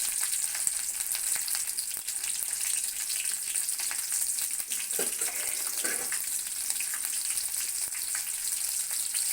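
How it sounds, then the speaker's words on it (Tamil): Quartered tomato added with garlic to a hot pan for mint chutney, sizzling in a steady hiss throughout, with a couple of brief stirring scrapes in the middle. "இதை வந்து நல்லா அப்படி கிளறி விட்டுட்டு"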